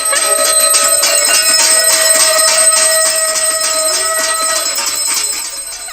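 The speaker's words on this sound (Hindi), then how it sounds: "दरभंगा में लोगों ने घर से बाहर निकलकर बजाई शंख और घंटी।" Bells ring steadily and loudly outdoors, with possible conch shells blown alongside, as people stand outside their homes; a sustained clanging wash with a constant tone holding for several seconds before easing slightly.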